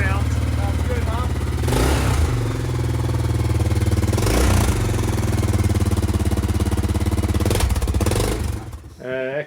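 A 1995 Honda XR100 trail motorcycle engine runs loud and close with a steady, buzzy single-cylinder chug, revving up in a few surges before cutting off at the end; voices speak over it.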